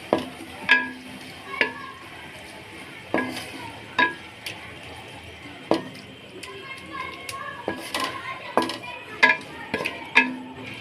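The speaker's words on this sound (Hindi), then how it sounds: "कीमे की अच्छी तरीके से आपने भुनाई करनी है।" Minced meat (keema) browns in a pan over a medium flame for village-style aloo keema. A soft continuous sizzle is broken by repeated sharp spatula clicks and scrapes against the pan at irregular intervals.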